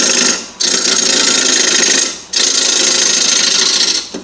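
A wood lathe spins a bowl blank while a gouge cuts into it, giving a loud, close, rough scraping drone in sustained bursts broken by two short pauses.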